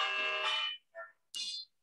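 Short electronic bell or chime signalling the end of a Bible study session, three quick bright tones, the first longest, clear and close with no talk.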